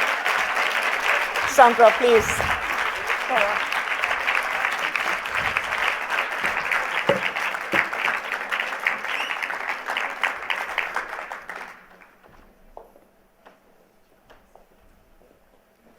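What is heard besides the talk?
audience applause at a forum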